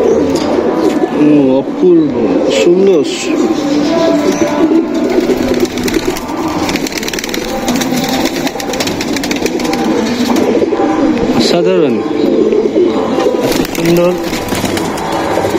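Pigeons coo steadily in a loft, a dense, continuous chorus close by, while someone talks over them in places.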